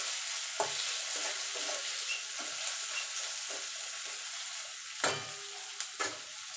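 Chopped onion with a pinch of salt fries in oil in a pan, giving a steady hissing sizzle broken by several sharp clacks and scrapes of a spatula stirring, close by with no talking.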